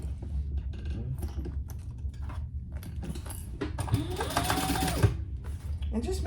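Sewing machine basting a bag flap in place, rapid mechanical stitching chatter in short bursts, with someone talking over it.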